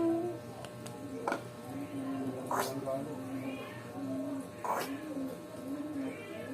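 Three drawn-out meows rise and fall a couple of seconds apart over a low, steady background hum.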